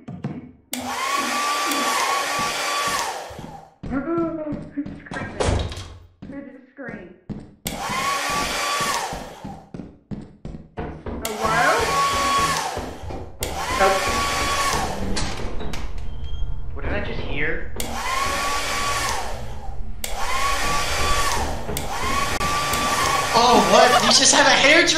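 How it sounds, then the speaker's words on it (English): A hair dryer in the video game Lethal Company roars in repeated loud bursts, each a few seconds long, separated by short gaps filled with clatter and footsteps. "You just have a hairdryer?"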